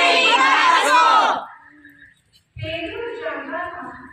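An angry crowd shouts loudly in a Good Friday Passion dramatization, a dense burst of many raised voices that fades after about a second and a half. Then, after a short gap, several voices speak.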